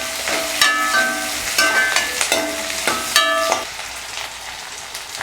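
Small onions sautéing in a pan for tomato rice, a soft sizzle under repeated scraping and stirring strokes that come in irregular bursts, close by with no talk.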